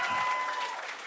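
A crowd at a stand-up comedy show claps in a brief, dense burst of applause, steady and fairly loud throughout the moment.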